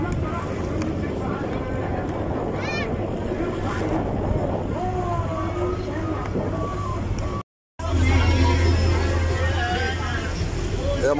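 A yacht cruising at Marsa Matruh drones with a steady low engine hum over rushing water and wind buffeting the microphone, with people chatting throughout and a brief dropout near the end.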